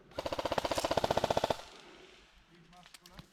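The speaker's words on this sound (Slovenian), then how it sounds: "Streljam na uno stran." Rapid automatic bursts from an airsoft gun during a game, a tight, evenly spaced string of about twenty sharp reports fired close by, then quieter rustling and a few faint clicks.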